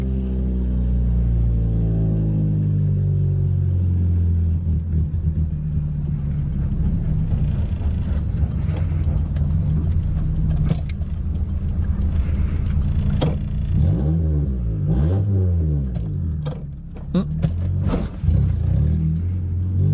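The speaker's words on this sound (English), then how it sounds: "you hear that VTEC kicking in" Car engine revving hard as VTEC kicks in, a loud close roar with rising and falling pitch sweeps, climbing sharply through repeated surges near the end.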